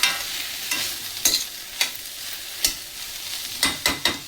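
Salted bitter gourd is stir-fried in a pan, with a steady sizzle broken by repeated sharp scrapes and clacks of a spatula tossing the pieces at an irregular rhythm, close and fairly loud.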